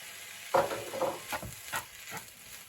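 Prawns with a sprig of thyme get stirred in a sizzling pan for a stir fry. A few close, uneven scraping and clattering strokes stand over a quiet sizzle, with no talking.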